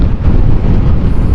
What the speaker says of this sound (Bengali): ওয়েদারটা খুবই সুন্দর, হাওয়া হচ্ছে,